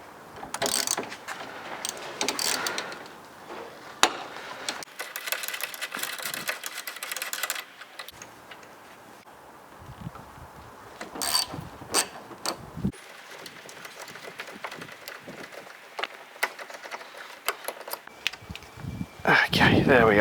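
Hand ratchet clicking in short intermittent runs while a 13mm nut and a 10mm bolt come off the A/C condenser lines of a 2012 Ford Focus, with metallic handling noises between the bursts.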